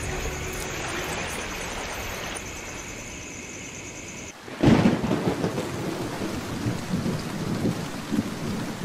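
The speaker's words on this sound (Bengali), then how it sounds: "রাতভর বৃষ্টি পড়ছে।" A cartoon night scene of rain falling all night on a hut roof: steady rain hiss, then a sudden loud crack of thunder that rolls on into a heavy rumbling downpour, close and full.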